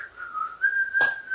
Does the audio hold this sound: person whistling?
yes